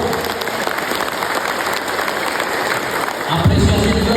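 A large crowd at a hajj officers' training event applauds the Minister of Hajj and Umrah, a loud, continuous wash of clapping that swells slightly near the end, with some crowd voices mixed in.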